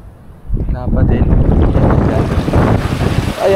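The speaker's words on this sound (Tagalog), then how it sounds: "Ayan na ang hangin." Wind gusting at sea around a small fishing boat, rising from a quiet start into a loud, roaring buffet against the microphone that holds steady to the end.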